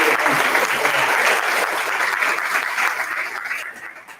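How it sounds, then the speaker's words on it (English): Audience applause at a high school awards presentation, steady and dense clapping filling the room for about four seconds before tapering off near the end. "can we get another round of applause for everyone that's shown up already?"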